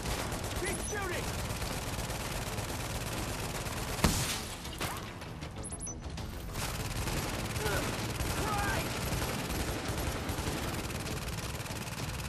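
Sustained automatic gunfire in the video game Tom Clancy's The Division, with loud volleys running almost unbroken and a sharp crack partway through, while a player talks over the shooting.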